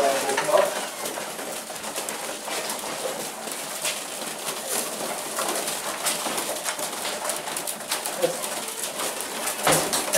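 Pigeons in a loft fill the air with continuous, fairly close cooing and rustling, a busy overlapping murmur of many birds with steady loudness throughout.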